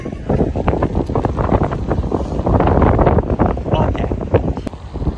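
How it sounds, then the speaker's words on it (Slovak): Strong wind at the harbour in Livorno buffets the microphone with a loud, continuous, gusting roar that fills the whole stretch. "je tu asi teplejšie, ale fúka furt Krista."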